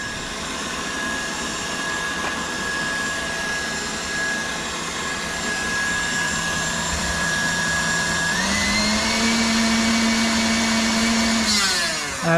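Electric mixer whirring steadily while beating chocolate soufflé batter, a loud continuous motor drone that rises in pitch partway through and holds there for about twelve seconds, with no talking.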